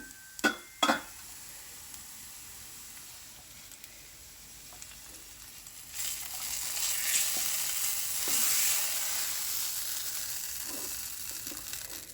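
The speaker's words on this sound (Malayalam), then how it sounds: "ഉള്ളി നന്നായിട്ട് മൂത്ത് വന്നിട്ടുണ്ട്" Onions fry in a pan with a steady soft sizzle, marked by a few sharp utensil knocks early on and a louder hissing swell in the second half.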